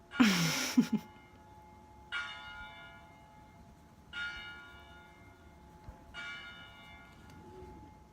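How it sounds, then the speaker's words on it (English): A church bell right nearby strikes three clear, evenly spaced tolls about two seconds apart, each ringing out and fading, after a brief burst of other sound at the start. "the church bell right in front of me"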